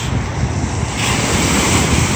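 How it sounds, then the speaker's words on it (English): Loud wind-driven waves at high water pound continuously, a dense roaring wash with heavy wind buffeting that swells slightly in the second half, no voices. "Check out these waves"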